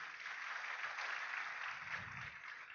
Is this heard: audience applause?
yes